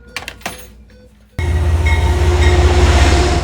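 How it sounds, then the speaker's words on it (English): An Amtrak passenger train rumbles loudly and steadily at close range, with faint clatter and a few clicks beforehand. "those aboard this Amtrak train are going in a different direction"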